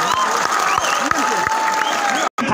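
Crowd applause at a Nua Khai Bhet-Ghat gathering at a Bhubaneswar university campus, a dense continuous clatter of hands with voices talking and calling out over it, ending with a brief dropout.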